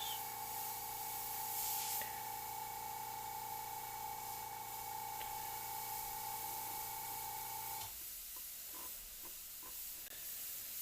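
An airbrush sprays paint in soft upstrokes while detailing the teeth sockets on a painted Dirk the Daring figure from Dragon's Lair. A steady hiss runs for about eight seconds and then cuts off, leaving faint light clicks.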